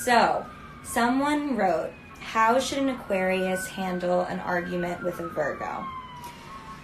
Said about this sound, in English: Sorry for the siren, everybody.